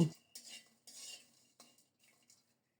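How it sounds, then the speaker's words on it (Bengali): Dried fish (shutki) stirred while dry-roasting in an empty karai, a few quiet scraping and clinking strokes of a spatula against the metal pan, close but faint, fading toward the end. "অনেকক্ষণ পর্যন্ত নেড়ে নেড়ে শুটকিগুলোকে টেলে নিচ্ছি"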